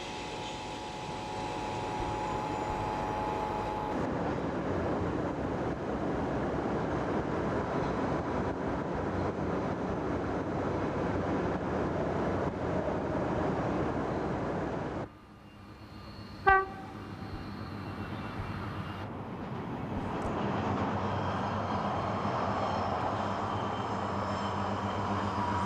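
A two-car British Rail Pacer railbus, a diesel multiple unit built from bus parts with a Leyland engine and Voith hydraulic transmission, drones loudly and steadily, then quietens briefly before a short, sharp horn toot and a return to running noise.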